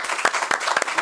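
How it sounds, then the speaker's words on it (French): A studio audience applauds for the mothers, a dense, steady spatter of many hands clapping together. It is loud and continuous, with no pause. "Donc, on applaudit pour ces mamans"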